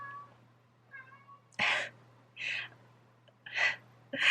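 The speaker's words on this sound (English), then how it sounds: "Sorry, that's my cat." A pet cat named Bubba meows indoors, a soft chirp followed by four loud, drawn-out meows spaced about a second apart over a low steady hum, no talking.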